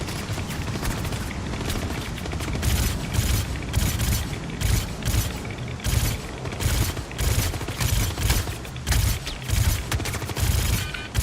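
Sustained automatic gunfire in the video game Star Citizen, dense rapid bursts of shots with booming low end, loud and continuous with rhythmic pulses throughout.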